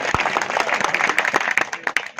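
An audience at a Hindi poet gathering (kavi sammelan) in Rewa claps in a moderate burst, with individual claps distinct and close, thinning out toward the end.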